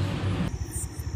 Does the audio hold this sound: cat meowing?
no